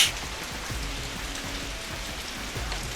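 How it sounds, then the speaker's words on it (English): Rain falling in the video game Cupid Parasite, a steady dense patter of drops on a surface that holds evenly throughout with no voices. "Looks like it started to rain."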